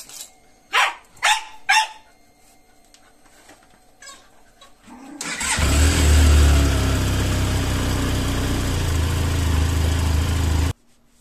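A Benelli TRK 502X motorcycle engine starts after a few sharp barks from a dog, then idles loudly and steadily for about five seconds before shutting off abruptly.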